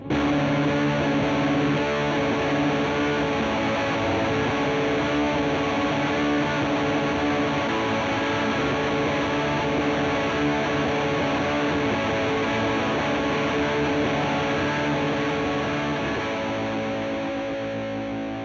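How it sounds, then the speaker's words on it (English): Electric guitar run through a Walrus Audio Melee distortion reverb pedal with a joystick, producing a loud, dense shoegaze wall of sound that sustains evenly throughout and fades slightly at the end, with no talking. "that's the Walrus Audio Melee distortion reverb pedal with a joystick"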